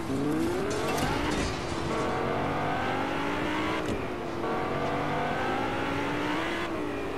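A vehicle drives in Fortnite, its engine note rising and shifting through gear-like sweeps, loud and close throughout with a short dip near the middle.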